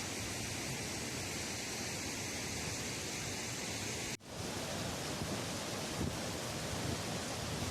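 Stream water channelled from a mountain nala and dropped through a pipe for small-scale hydropower at Rati Gali base camp, a steady broadband roar of rushing, falling water, loud and continuous throughout with no voices.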